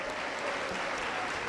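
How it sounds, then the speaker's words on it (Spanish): A church congregation at a Pentecostal service claps loudly and continuously in a dense, close wash of applause. "Fuerte las palmas para Cristo."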